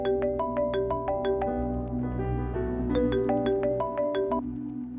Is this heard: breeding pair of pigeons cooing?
no